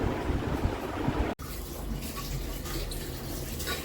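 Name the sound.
running tap water while washing dishes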